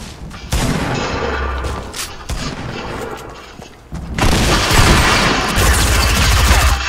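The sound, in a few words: gunfire in Fortnite, a video game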